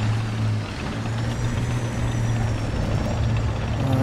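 An enemy aircraft engine drones in the War Thunder tank battle, a steady low hum with a buzzing harmonic layer that stays fairly loud and constant throughout.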